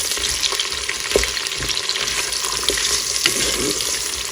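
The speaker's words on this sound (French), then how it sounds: "vous ajoutez l'oignon à l'huile. La même huile qui a servi donc à faire rissoler le poivron. Vous faites revenir quelques instants." Onion sizzles in oil already used to brown a pepper, cooking in a Cookeo multicooker: a steady, crackling fry hiss with occasional stirring taps, close and continuous, with no talking.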